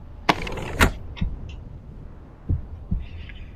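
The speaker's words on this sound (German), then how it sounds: "Oh, ich höre meinen Puls." Heartbeat pulse in the VR game Naau: The Lost Eye, a few soft low thumps spaced irregularly, with faint creaky game ambience and no talk.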